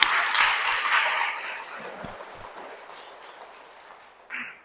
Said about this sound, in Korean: 박수 한번 쳐주세요, 여러분들.